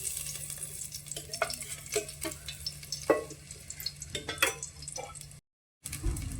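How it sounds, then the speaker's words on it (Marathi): Green Kashmiri chicken masala paste sizzles in hot oil in a pan, with steady stirring scrapes and clinks over a constant low hum, before a brief silent gap near the end. "हे तेल तापू आता मसाला तळून घ्यायचा"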